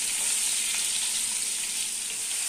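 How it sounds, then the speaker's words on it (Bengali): Pointed gourd (potol) sizzles steadily as it fries in a pan for a mugeswari patol dish, a continuous close hiss with faint stirring and no talk. "এখন আমি পটলটা এদিকে ভাজা হতে থাক"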